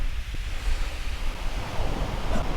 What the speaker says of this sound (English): That wind's dropped off a little bit, so it's coming over the top of the bank now.